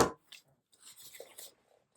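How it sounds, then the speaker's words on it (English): Scissors snip the end of a zipper on a sewn shoulder bag, a sharp close cut followed by soft rustling and scraping of fabric. "So trim my zipper here."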